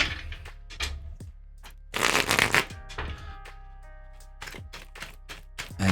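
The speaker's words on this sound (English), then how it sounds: "We're going to shuffle these up." Tarot cards shuffled close up in short crisp bursts of riffling and snapping, a dense louder flurry in the middle, otherwise quiet between strokes.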